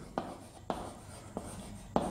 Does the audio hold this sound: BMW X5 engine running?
no